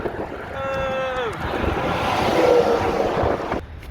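Strong wind roars across a bridge with steady broadband noise, joined briefly by a falling tonal whine, loud and continuous before cutting off abruptly near the end.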